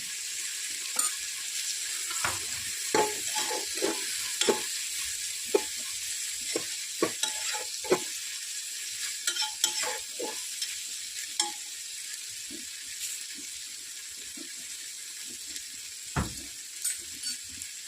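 Turmeric and asafoetida frying in hot oil for a moth-bean rice pulao: a steady sizzle punctuated by frequent scraping clicks of a spoon stirring in the pan.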